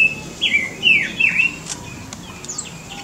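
Birds in a semi-natural aviary give several close, bright, sliding chirps and whistles, with a few sharp ticks and faint distant calls against a soft outdoor background.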